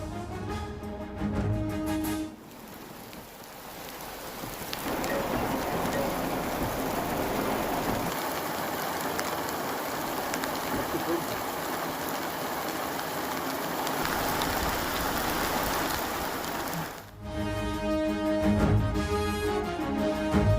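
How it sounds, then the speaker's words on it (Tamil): Heavy rain pouring in Kotagiri in the Nilgiris district, a loud, dense continuous roar of downpour on surfaces that holds steady for most of the stretch, bracketed by brief musical interludes. "நீலகிரி மாவட்டம் கோத்தகிரி மற்றும் அதன் சுற்றுவட்டார பகுதிகளில் கனமழை."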